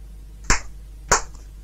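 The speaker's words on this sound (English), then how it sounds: "Two claps this episode." Two sharp hand claps ring out alone, about half a second apart, crisp and close against a quiet background.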